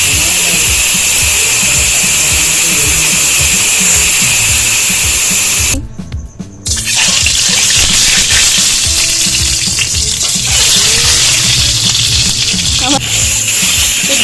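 Rice for chicken biryani drops into hot oil seasoned with salt and kewra water, setting off a loud, steady sizzle and frying hiss that runs throughout, close up, with a brief dip partway through.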